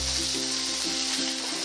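Shrimp sizzle steadily in a pan, a close, continuous crackling hiss with faint stirring, no voices.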